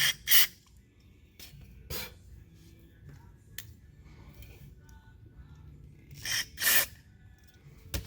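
Cleaner is sprayed into a carburetor in several short, sharp hissing bursts separated by quiet gaps. The bursts are close and loud, with two paired sprays near the end.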